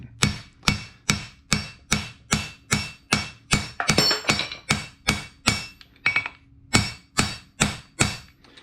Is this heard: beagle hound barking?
no